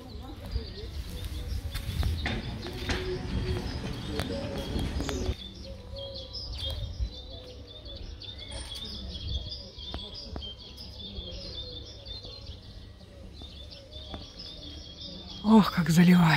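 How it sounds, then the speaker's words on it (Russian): Birds sing and chirp in a park in March, with repeated high tweets and trills at moderate distance over a faint background hum, and a brief thud near the end. "Ох, как заливаются птички."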